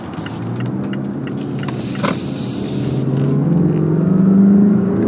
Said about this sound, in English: We're going to do a full throttle on-ramp test.